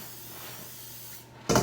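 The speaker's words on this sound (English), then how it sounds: "we're going to spray the pans" Cooking spray hisses onto baking pans in one short, close burst at the end, after a quiet stretch of low room noise.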